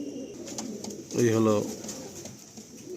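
A pigeon of a Malwai, Madrasi or Andhra breed, offered for sale, gives one clear close coo in the middle while someone talks briefly around it.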